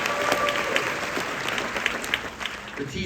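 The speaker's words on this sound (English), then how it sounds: "we can applaud again for the festival's director, Mark Wins, and Lindsay Griffin, the festival's manager" Festival audience applauding in a theater at a classic film festival screening, a dense, steady wash of many hands clapping at close range that fills the whole stretch.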